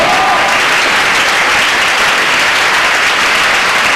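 A large crowd at a year-end religious convention applauds and cheers for the regional superior, producing loud, steady, dense clapping that fills the whole stretch without a break.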